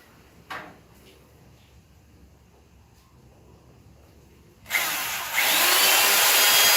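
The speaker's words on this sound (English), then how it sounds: "I'm going to drill some holes for screws to permanently keep this in place." After a quiet stretch with a couple of small knocks, a power drill whirs loudly and steadily, boring screw holes into a wooden bookcase close by.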